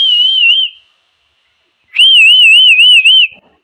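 A loud, close warbling whistle sounds in two bursts, the first fading out briefly and the second longer with a trilling wavering pitch.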